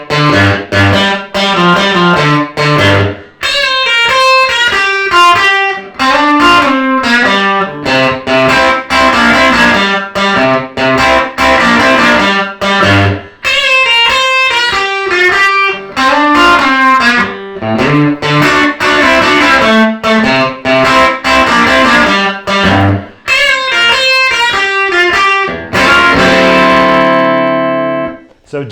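Distorted electric guitar with effects plays a blues verse, a continuous run of licks and bent notes with no talking, ending on a ringing chord.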